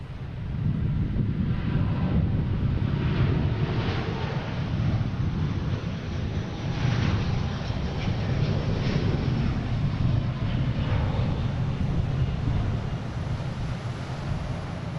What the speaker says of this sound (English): here is that Delta heading to London Heathrow